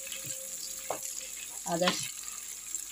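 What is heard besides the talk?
garlic and onion frying in oil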